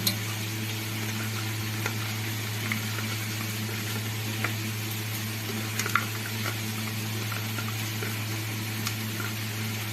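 Pointed gourd frying with chopped onion and garlic in a pan, a soft, steady sizzle under a constant low hum, with a few faint clicks and bumps scattered through, no talking.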